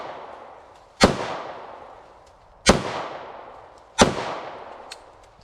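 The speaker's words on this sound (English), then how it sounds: "I'm gonna shoot that." Three sharp gunshots are fired outdoors at a pumpkin, each a loud crack with a decaying echo, spaced about one and a half seconds apart, with no talk between them.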